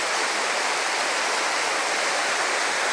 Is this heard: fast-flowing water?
yes